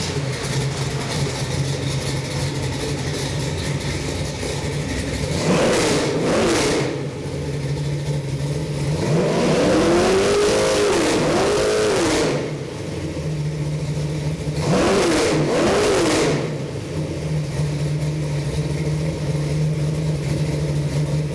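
A Chevy 383 stroker crate engine in a 1932 Ford coupe idles with a steady, loud rumble. It is blipped up to higher revs three times and settles back to idle after each rev.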